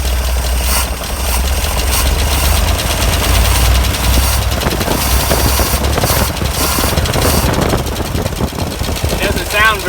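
A GMC 478 big block V6 idles roughly, a steady low engine rumble with an unhealthy-sounding valve train, running continuously and close by, with some voices and clatter over it.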